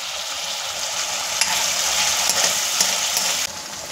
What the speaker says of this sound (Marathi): जोपर्यंत बटाटा तळला जात आहे